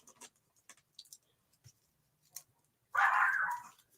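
A dog barks once in a short burst after several seconds of quiet, with small knocks and shuffling noises before it.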